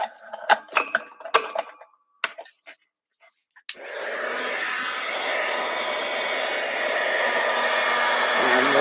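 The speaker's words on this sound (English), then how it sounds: "So let me get my heat gun." A heat gun blowing hot air over a card for crafting starts abruptly after a few light clicks and handling noises, then holds a loud, steady rushing whoosh close by with no talking.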